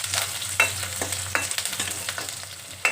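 Sliced onions and slit green chillies frying in a pan, a close, steady sizzle broken by several scraping stirs, no talking.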